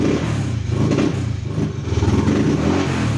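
A Honda Click scooter engine runs close by with a steady, buzzing putter that rises and dips slightly in revs, loud and continuous, with no one talking.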